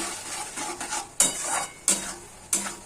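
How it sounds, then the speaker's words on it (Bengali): Spice masala simmering with a little added water in a pan is stirred, with a few sharp scrapes of a utensil against the metal over a low bubbling sizzle. "জল দিয়ে মশলাটা একটু নেড়ে ছেড়ে একটা ঢাকা দিয়ে দেবো"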